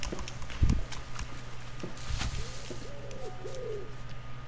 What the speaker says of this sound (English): Wow, how many pigeons are there?